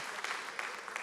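A brief burst of clapping from a church congregation, dense and steady with a few sharper claps standing out.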